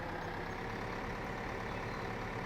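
A tractor engine in the video game Farming Simulator 2015, a steady droning rumble heard alone and without a break.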